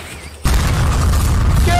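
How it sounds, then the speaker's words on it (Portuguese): Loud gunfire bursts in an animated video game erupt suddenly after a quiet moment and continue as a dense, booming barrage for over a second, with a faint high-pitched tone near the end. "É tiro, mano, tiro."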